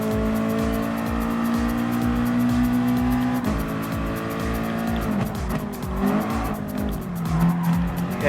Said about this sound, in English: this is definitely the original GTR race car in the 2008 season